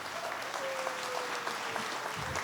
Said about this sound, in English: So a round of applause for all of them, please.